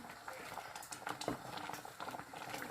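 Champorado, a Filipino chocolate rice porridge, bubbles and pops as it boils in a covered pot, a busy irregular simmer with a faint voice murmuring in the background.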